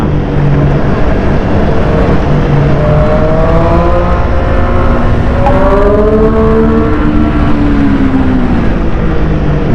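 A Triumph Street Triple 765 RS engine roars close and loud on a winding road in Sakon Nakhon, its pitch climbing under throttle and dropping at each quick, smooth gear change, with wind rushing underneath.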